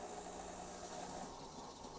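A steady hiss of water and steam spraying out, continuous and fairly close, with a faint low rumble underneath and no voices.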